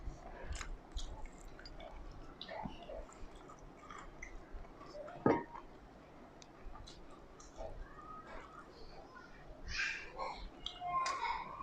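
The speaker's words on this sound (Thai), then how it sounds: "ทำไมเวลากินมีเสียงวะ เสียง เสียงกินกรุบกับกรุบกับเสียงดีดีอะ" Close, quiet crunchy chewing of rice and a large chicken drumstick, with irregular bites and crackles over a soft background, no talking.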